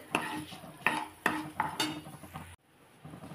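Raw mango and fenugreek mixture with dried red chilli pieces is stirred in a pan, with a few sharp utensil scrapes and knocks over a soft sizzle, then the sound drops off.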